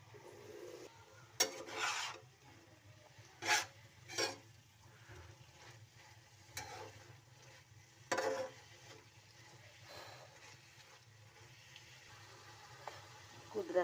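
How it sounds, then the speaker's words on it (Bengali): Khudra greens (Sylheti leafy greens) being stirred in a frying pan, giving soft scraping clinks and brief utensil knocks over a faint low sizzle, with a few louder stir strokes spaced irregularly. "এখন খুদরা শাক লাড়াচাড়া করিয়া দিলাইছি"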